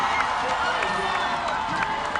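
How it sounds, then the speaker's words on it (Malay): A large crowd at Dataran Merdeka for the 2016 National Day parade applauds and cheers in a steady, dense wash of clapping and voices that stays loud for the whole stretch. "Disambut dan juga diraikan oleh tepukan gemuruh dan juga lambaian jalur gemilang oleh rakyat yang berada di Dataran Merdeka."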